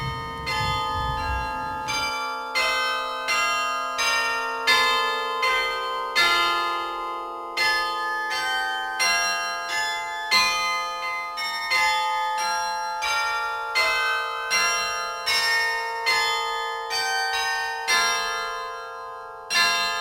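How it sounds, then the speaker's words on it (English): Church bells ring in Old Main Tower at Westminster College, a loud, close peal of repeated strikes in a steady, rolling rhythm, each tone hanging and overlapping the next throughout. "please accept our gratitude for keeping the bells in Old Main Tower ringing again"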